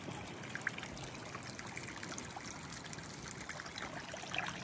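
Irrigation water on a farm flows and trickles steadily at moderate distance, a continuous soft gurgle with faint splashes and no speech.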